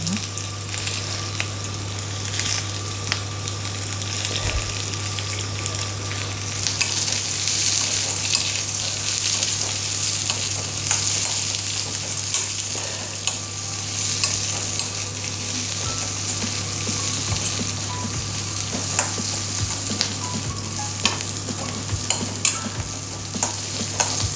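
Chopped onion and green chillies fry in a pan for paneer butter masala, giving a steady, fairly loud sizzle with soft stirring scrapes throughout, over a constant low electrical hum, with no voices.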